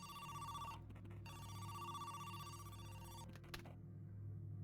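A telephone rings inside a video game, an electronic bell trill repeating in bursts with brief gaps, steady and fairly clear before it cuts off.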